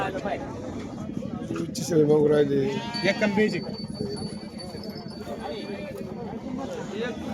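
Goats bleating at a crowded goat and sheep market, a few nasal bleats rising over constant nearby human talk and general livestock bustle, with voices present throughout.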